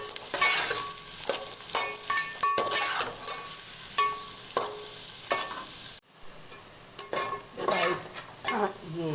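Chopped onions hitting hot oil in a pan, a steady sizzle broken by sharp metallic scrapes and clinks of a spoon stirring, close and busy, with a brief pause partway through.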